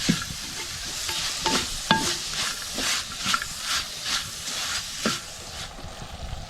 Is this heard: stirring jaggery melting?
yes